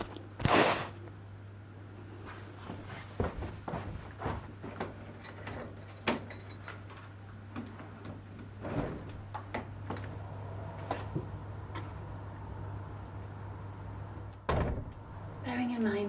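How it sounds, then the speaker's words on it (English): A set of bifolding household doors is opened in a chilly room, giving a series of clunks, clicks and sliding knocks. A louder thump comes near the start and another near the end, over a steady low hum. "I will now demonstrate how my bifolding doors work"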